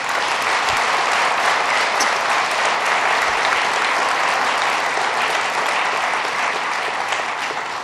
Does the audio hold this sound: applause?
yes